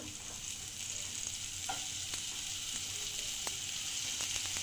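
Carrot, capsicum and tomato stir-fried in melted butter in a hot pan over high heat, a steady close sizzle with a few light scrapes of the spoon, no voices.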